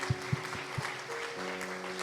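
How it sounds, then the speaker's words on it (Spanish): Church congregation applauding the Lord at a women's breakfast service: a few distinct, loud claps open the moment, followed by a softer steady patter with a held musical tone underneath. "le damos un aplauso al Señor"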